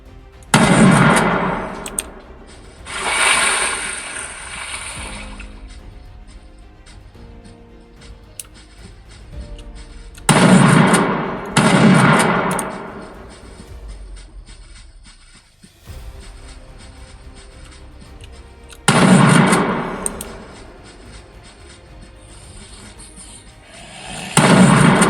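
A shotgun in a Game Guru first-person game fires three times, each a loud booming blast with a short decaying tail, spaced roughly eight seconds apart with quiet stretches between.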